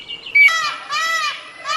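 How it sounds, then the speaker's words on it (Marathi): A Malabar whistling thrush sings from a deep Sahyadri valley, giving a few clear, rising and falling whistled phrases in quick succession, fairly close and distinct. "सह्याद्रीच्या खोल दरीतून शिळ कस्तुराची सुरेल शिळ कानावर पडते आहे"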